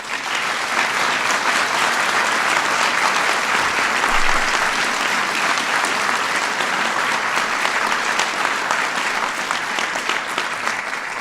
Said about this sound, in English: So give all of them a big round of applause.